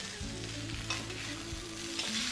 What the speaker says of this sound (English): Now let's add our seasoned fillets to the hot pan